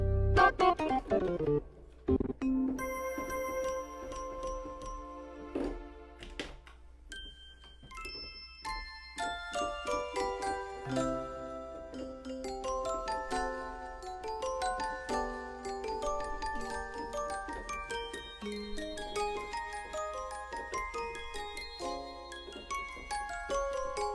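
Bell tones from a Korg i3 keyboard's sound set, played note after note in a busy stream of overlapping chimes and tinkling strikes that ring and decay, fairly loud throughout with no voices.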